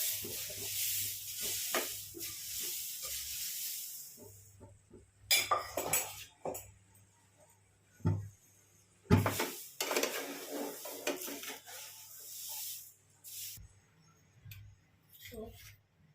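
Poha chivda ingredients mixed in a pan for a Diwali dahi poha chivda give repeated scraping and clinking of a spoon against metal, steady near rustling with quieter gaps between bursts.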